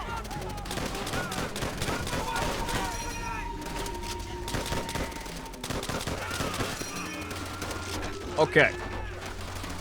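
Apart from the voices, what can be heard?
machine gun fire in the video game Call of Duty: World at War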